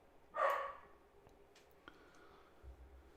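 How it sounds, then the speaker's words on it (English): A single muffled bark from a dog in another room, followed by faint clicks and low room noise. "Sorry about my dog. He's going crazy in there."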